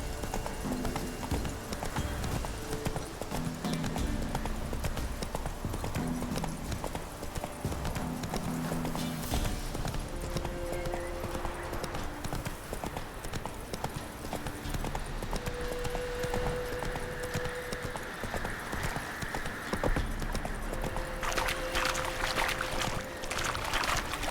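Roach, a horse in The Witcher 3, gallops steadily with loud, continuous, rapid hoofbeats close by, joined by game music and ambient sound, with a short whinny toward the end.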